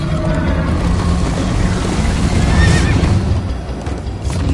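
A horse in Minecraft: Story Mode whinnies amid rapid galloping hoofbeats and rushing wind, loud and close, with no talking.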